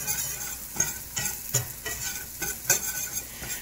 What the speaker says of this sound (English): I just want to wilt those onions a little bit, get them translucent.